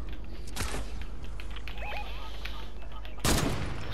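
Gunfire in the Fortnite video game, two sharp bursts of shots, one early and one louder near the end, with quieter game sounds between.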